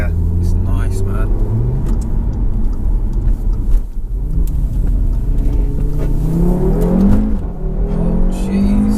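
Tuned 440 BHP APR Audi RS3 accelerating hard out of corners, its engine note rising in sweeping pulls over a steady road rumble, heard from inside the cabin with talk over it.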